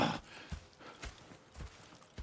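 Horse hooves clip-clop in a slow, steady rhythm of four or five thuds in Red Dead Redemption 2, close and fairly quiet, with a faint whinny at the start.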